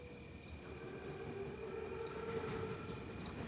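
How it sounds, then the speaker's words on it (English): Armored train rumbling closer in a Call of Duty WWII scene, a steady low mechanical roar with a sustained whistle-like tone running through it, continuous and moderately loud with no talking. "Train's right on time. Biggest train I've ever seen."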